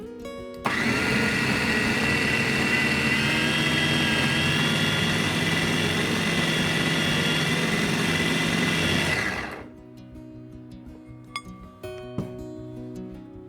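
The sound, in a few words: meat grinder mincing pork collar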